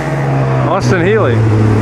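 An Austin Healey in the Mille Miglia road race sweeps past close by, its engine note rising and falling in a quick pass over steady background engine rumble.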